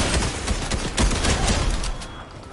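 Rapid bursts of gunfire from a bot shooting in an online shooter match, dense and fairly close, with overlapping shots and a broadband, noisy texture that eases off toward the end.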